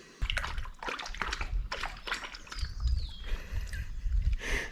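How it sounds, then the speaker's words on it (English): Rainwater tinged with algae drains out of a Case 170B excavator under repair. It splashes and sloshes continuously and close by, with irregular spatters and gurgles throughout. "That's just rainwater with a touch of algae flavoring"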